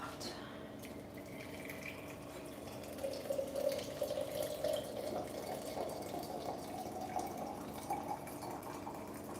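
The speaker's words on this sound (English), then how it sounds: "put some water in the teapot." Water flows into a teapot in a home kitchen, a soft steady running and filling sound that swells slightly partway through, faint and continuous.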